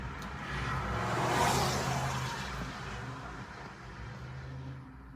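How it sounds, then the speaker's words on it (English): Fast cars passing on a road, a steady broadband rush of traffic swelling to a peak around the middle and easing off, with low engine rumble throughout and no voices. "all these cars going fast by me, almost made me lose my chin"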